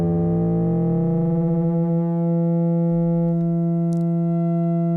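Ring-modulated synthesizer tones hold a dense, steady chord of sum and difference pitches, loud and sustained with no pauses. A low hum beneath it shifts partway through.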